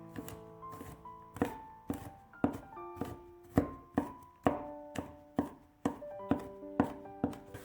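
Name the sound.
chopping garlic into slices then minced garlic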